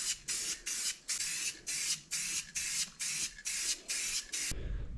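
Spray paint base coat going onto a fabric-covered trophy book, heard as about ten short, even hissing bursts in a regular rhythm, fairly close and alone, ending with a soft thump.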